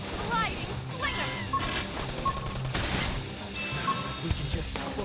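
Rapid gunfire bursts and metallic crashing impacts fill a combat sequence in Xenoblade Chronicles X, with character voices talking over the battle.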